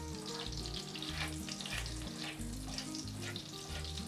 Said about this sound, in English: Just going to wet this onion a little bit in the butter